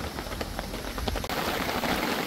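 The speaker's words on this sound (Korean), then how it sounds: "굉장히 비가. 근데 슬슬 많이 오네요." Rain falls at a valley campsite, a steady, fairly close patter with scattered drops striking nearby surfaces and no voices.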